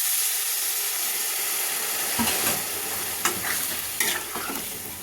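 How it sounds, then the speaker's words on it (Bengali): Jackfruit and potato sizzle loudly in a pan as water is added, with a steady frying hiss and several sharp spoon scrapes and knocks of stirring near the end. "এবার আমি জল দিয়ে দেবো।"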